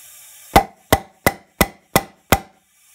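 Six sharp, evenly spaced taps of a rubber hammer on valve stems of a Jeep 2.8 CRD diesel engine, each a crisp knock with a short ring, at a steady moderate pace close to the listener.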